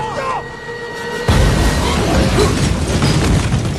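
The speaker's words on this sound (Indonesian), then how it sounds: "tabung gas penyembur api pun bocor yang menimbulkan ledakan" A leaking flamethrower gas tank explodes in a film scene, a sudden loud roaring blast after a quieter opening, followed by a sustained rumbling burst that fills the rest of the clip.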